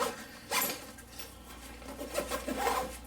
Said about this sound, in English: See, the zipper still gets stuck.